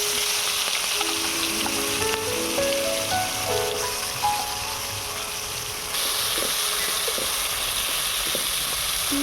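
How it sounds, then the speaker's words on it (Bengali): Shrimp frying in mustard oil gives a steady crackling sizzle with soft spatters, continuous through the whole stretch with faint tonal sounds early on. "চিংড়ি মাছটা প্রথমে ভেজে নেব"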